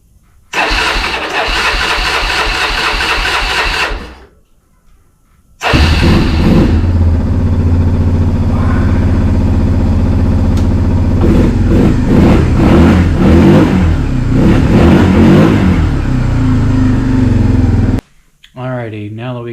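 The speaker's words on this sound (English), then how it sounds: "So let's see if she'll start up." Honda Fourtrax ATV engine after a no-start repair: a long cranking whir, a pause, then the engine catching and running with uneven revving bursts for about twelve seconds before cutting off, loud and close.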